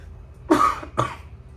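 Two short close coughs, one after the other, with quiet room noise around them.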